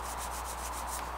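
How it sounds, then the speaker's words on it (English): An eraser rubs out pencil lines on paper in a steady, soft, continuous scrubbing with a gentle back-and-forth pulse, close and quiet. "Erase those interior lines."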